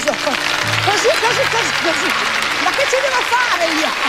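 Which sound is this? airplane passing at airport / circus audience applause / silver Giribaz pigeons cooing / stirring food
circus audience applause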